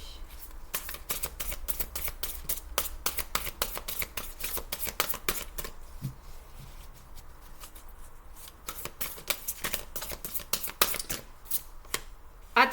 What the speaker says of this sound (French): ces cartes sont très, très grandes pour mes petites mimines. Pas facile à manipuler